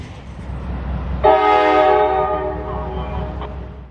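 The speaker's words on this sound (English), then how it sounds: "330 is a general freight that leaves Jax every morning for Macon, Georgia." Freight train 330 in Jacksonville sounds a loud, sustained multi-tone horn blast over engine rumble as it departs, the horn lasting a couple of seconds before easing into the idling diesel drone.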